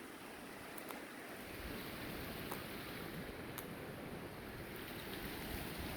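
Fast-flowing flooded creek water rushing past a closed road in a broad, steady roar, constant and close throughout with no talk.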